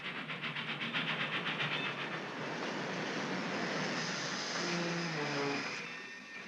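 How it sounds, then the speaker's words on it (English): A 1940s passenger train pulls into a small-town station with rhythmic chugging at the start, then a broad steady rumble and hiss and a brief whistle-like tone near the end. "my train pulled into Lavender Falls"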